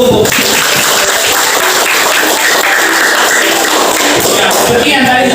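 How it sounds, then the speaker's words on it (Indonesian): A classroom of high school students applauds during a teaching lesson, a loud, dense and continuous burst of clapping that runs steadily from start to finish. "tepuk tangan dulu untuk"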